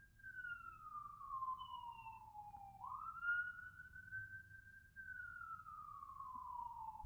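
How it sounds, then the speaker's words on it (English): An ambulance siren wails in long, slow rising and falling sweeps, fairly faint and steady as it passes at a distance, with no voices over it. "let me wait for the ambulance to go by."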